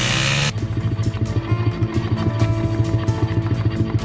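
Motorcycles ridden along a muddy road by officers hauling 2024 regional election supplies: a steady, close engine drone with uneven revving surges for about four seconds, with no voices.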